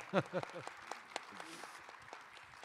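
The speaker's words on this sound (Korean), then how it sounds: "큰 박수로 환영해 주시면 고맙겠습니다." A brief voice gives way to light, sparse clapping from a seated audience welcoming a guest at a 2022 Pyeongchang Peace Forum session; the claps are faint and thin out over time.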